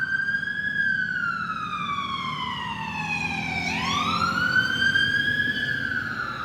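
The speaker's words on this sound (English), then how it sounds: "And we've got police, we've got sirens." A police siren wails steadily, its pitch sliding down and then sweeping back up, heard alone at moderate distance.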